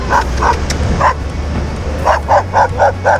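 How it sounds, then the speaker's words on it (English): A dog on Playa Brazalito in Costa Rica barks aggressively in loud, close, rapid bursts: a few sharp barks, a brief pause, then a quick string of five or six more, with surf-like noise underneath. "It's like the only aggressive dog I've ever seen in Costa Rica."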